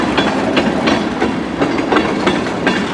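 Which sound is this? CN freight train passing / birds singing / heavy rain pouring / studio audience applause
CN freight train passing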